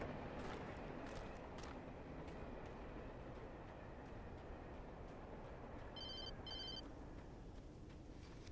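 A telephone rings in two short bursts near the end, sitting on top of a loud, constant low rumble from a passing train by the tracks.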